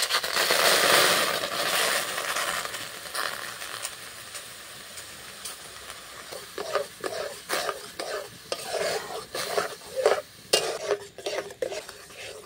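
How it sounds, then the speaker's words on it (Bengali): Bael fruit pulp stirred continuously in a hot wok while making bael jelly: a steady soft sizzle and hiss at first, then a quicker run of close, distinct scraping and clinking strokes against the pan. "দেখুন ভালো করে নাড়াচাড়া করে নিচ্ছি, কারণ তলাতে যদি বসে যায়, এই জন্য অনবরত কিন্তু নাড়ছি"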